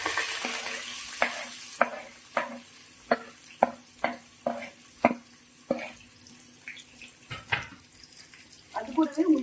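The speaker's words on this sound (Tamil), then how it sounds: "கிராம்பு வெடிக்கும், சொல்லி பார்த்துக்கோங்க." Cloves crackle and fry in hot ghee under a soft sizzle, while a spoon stirs the pan in regular sharp taps about every half second, ending in a louder burst of frying.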